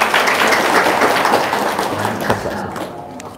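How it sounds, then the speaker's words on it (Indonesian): Audience applause at an Islamic motivational and testimony gathering, a dense wash of clapping that is loud at first and slowly thins out over a few seconds. "Tepuk tangan dulu dong."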